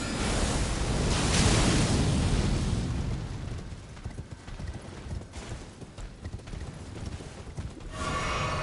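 Horse hooves clip-clopping while riding in the video game Elden Ring, heard under a wash of wind- or surf-like ambience. A loud rushing swell comes first, then quicker scattered hoof beats, and the noise rises again at the close.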